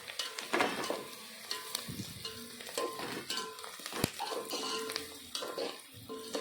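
Tomatoes hit a hot pan for a dried-fish, brinjal and tomato tamarind curry, giving a steady loud sizzle with scraping stirs and clinks of a pot and spoon, no voices.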